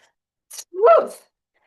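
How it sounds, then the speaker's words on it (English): A single short sneeze, a quick sharp intake followed by an abrupt burst, close and fairly loud, then silence. "it kind of ends up in a full body sneeze. So it actually often comes out audibly"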